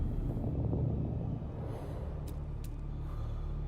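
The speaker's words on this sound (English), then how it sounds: "Oh no, the storm is coming." A deep, steady rumble of an approaching sandstorm on Arrakis in Dune Awakening, a broad low roar that holds constant with a faint hiss above it and a couple of thin high ticks.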